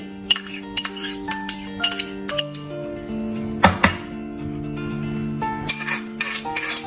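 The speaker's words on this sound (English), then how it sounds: "Now we are going to mix all the ingredients into our lentil and mutton mixture." Chopped onion tipped and stirred into a lentil and mutton mixture for lamb tikiya kebabs, heard as a run of light clinks and clatters of utensils against a bowl, close and intermittent, with a dull thunk midway.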